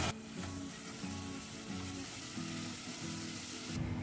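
Garlic ginger paste sizzles in melted desi ghee, a steady close frying hiss with a soft, faintly pulsing low hum underneath, heard on its own with no voices.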